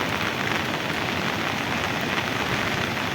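Heavy rain pouring down on a rural road during a storm that flattened maize crops, a loud, dense, continuous hiss of drops with no voices.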